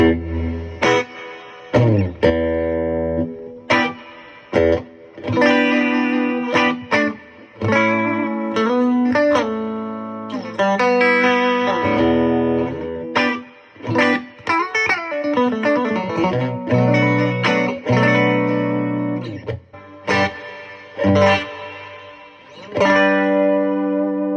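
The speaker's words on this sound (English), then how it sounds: "It's sort of got a like a little bit of a pre-delay to the reverb, so it kind of kicks in a little late." An electric guitar through a BOSS Nextone Artist amp plays a run of chords and single notes, loud and close. A reverb with a short pre-delay kicks in slightly late and leaves washy tails between the phrases, with no voices.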